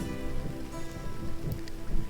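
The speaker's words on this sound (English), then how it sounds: "especially the rain that keeps kind of coming back and forth" Steady rain from the video game Dust: An Elysian Tail, a dense, even patter that holds without a break through the whole short stretch at moderate loudness, with no voices over it.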